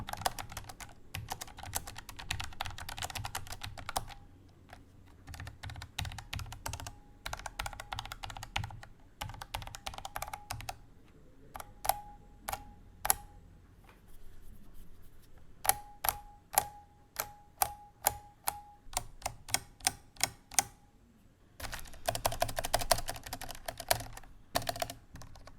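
Typing on a Keychron mechanical keyboard comes in bursts of rapid clicky keystrokes, separated by pauses and slower single presses, close and crisp.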